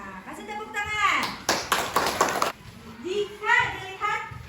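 A class of fourth-grade children clap together in short bursts of rhythmic patterned clapping, with kids' voices chattering and calling out between the claps.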